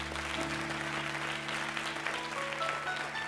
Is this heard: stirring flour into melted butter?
no